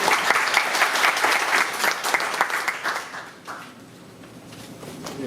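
Audience applause at a city mayor's transition committee final report meeting in Pocheon, a dense steady clatter of many hands that fades out toward the end.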